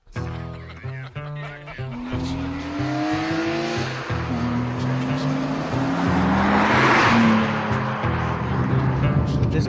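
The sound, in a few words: 1998 BMW M3 being driven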